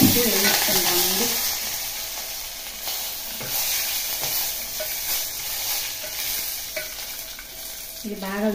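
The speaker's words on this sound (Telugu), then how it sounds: "కొంచెము కరివేపాకు వేసి ఇది బాగా దోరగా వేగే వరకు వేయించుకుంటామండి" Curry leaves and dried red chillies frying in a pan, a loud continuous close sizzle and crackle with stirring scrapes, briefly under a voice at the start and end.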